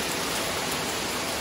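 Steady heavy rain falling outdoors during a storm at a campsite, a dense continuous hiss with no distinct drops, moderately loud and unbroken, with no talk over it.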